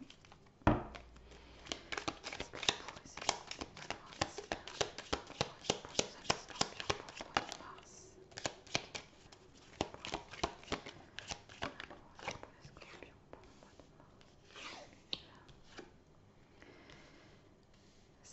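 Tarot cards shuffled by hand close up, a long run of quick papery riffles and soft slaps in irregular bursts, with occasional crinkling and handling noises between.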